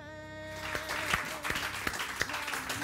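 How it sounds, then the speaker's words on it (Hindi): A studio audience on a morning show breaks into applause, starting faint and swelling into scattered, uneven clapping with sharp individual claps standing out over a low hum. "बहुत सारी तालियां"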